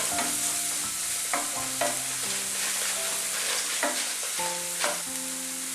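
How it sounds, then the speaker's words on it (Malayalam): Onions and green chillies fry in oil for a Malabar meat pathiri filling, a steady close sizzle broken by several sharp clacks of a spoon stirring against the pan, with background music playing throughout. "ഇനി ഈ സവാളയും പച്ചമുളകും ഒക്കെ നന്നായിട്ടൊന്ന് എണ്ണയ്ക്കിടന്നൊന്ന് മൂത്ത് വരണം."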